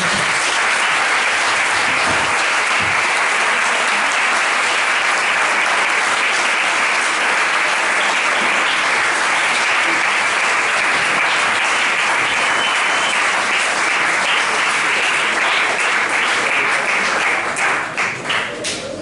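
Sustained applause from an audience at a book presentation, steady and dense crowd clapping that fills the whole stretch and thins slightly at the end.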